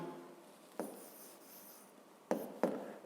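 A pen writing on paper, with soft scratchy strokes and a few sharper taps as it touches down, close and quiet in a hushed room.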